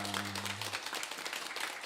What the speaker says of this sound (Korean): 우리 다시 한번 박수로 감사하겠습니다